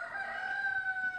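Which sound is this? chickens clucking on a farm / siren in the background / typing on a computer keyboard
chickens clucking on a farm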